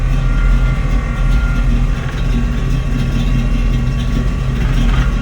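A car idles close by while an air compressor fills the airbag suspension tank, giving a loud, continuous rumbling drone with a faint whine above it and no talking.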